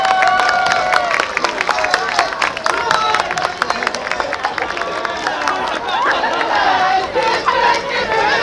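A crowd at an outdoor live band concert in a parking lot applauds, with dense clapping and chatter plus scattered cheers, loud and continuous throughout.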